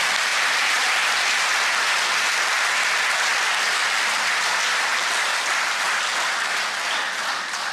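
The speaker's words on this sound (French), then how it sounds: "Second bon applaudissement pour Adama Bictogo." Sustained applause fills the National Assembly chamber, a dense, steady wash of many hands clapping at even loudness throughout, fading slightly near the end with no talk over it.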